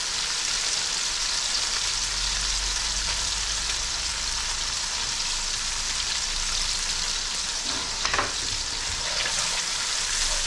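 Onions fry in a pan for breakfast, a dense, continuous close sizzle and crackle like steady rain that holds evenly throughout, with a brief stirring scrape near the end.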